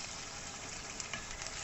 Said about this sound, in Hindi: चिकन को आपने लाइट सा फ्राई करना है, इसका कलर चेंज होने तक।